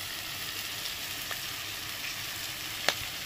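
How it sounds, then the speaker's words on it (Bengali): Cumin powder and spices sizzle in a pan for restaurant-style prawn rice, a steady close frying hiss with a couple of brief clicks from stirring, no voices. "এবার এটাকে মিশিয়ে দেবো, হালকা করে ভেজে নেব"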